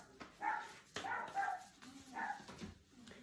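Shiloh, a pet dog, lets out several short barks and yips, moderately close and at irregular intervals, in a quiet indoor room.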